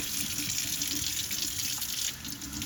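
Tap water runs steadily into a single sink while a pan is rinsed, a continuous close splashing rush with no break and no voices.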